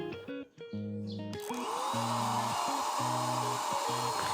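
A Worksite CSG102 cordless paint spray gun whirs up and runs with a steady, loud motor hiss, starting abruptly after a moment of quieter background music.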